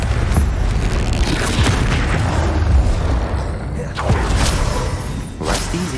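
Booming spell blasts and bursts from combat in Hogwarts Legacy, the Bombarda and Confringo spells landing in a loud, dense run of impacts amid other game effects, with a voice speaking over parts of it.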